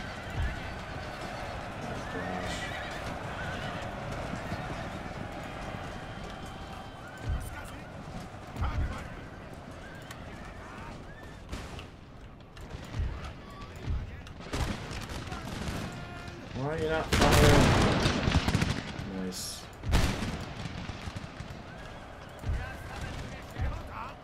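Cavalry charge in Empire: Total War: horses neigh and whinny amid clattering hooves and scattered musket fire, a dense battle din that swells to a loud peak, with a voice talking over it.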